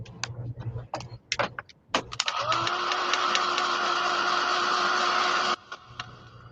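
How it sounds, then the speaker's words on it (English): A home printer runs for about three seconds with a steady mechanical whir and hum, preceded by clicks and handling noises, then stops abruptly. "so now I know how loud my printer is"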